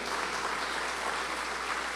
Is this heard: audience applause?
yes